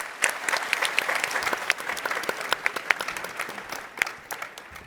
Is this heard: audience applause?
yes